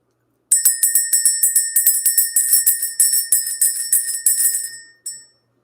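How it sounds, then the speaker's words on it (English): A small bell is struck repeatedly in a fast, even ringing run for about four and a half seconds, bright and close, ending with one last lone strike that fades into quiet. "Let's go ahead and ring this bell."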